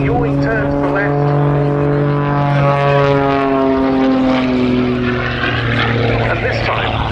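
Pitts S-2S aerobatic biplane with a strong propeller engine performing at an air show, a loud droning engine note that rises and falls in pitch as it manoeuvres, with a commentator talking over it.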